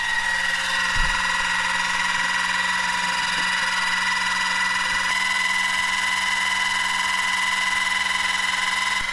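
A 12 volt electric car jack runs steadily while lifting a car, a continuous motor whine and buzz holding an even pitch with a faint click near the start.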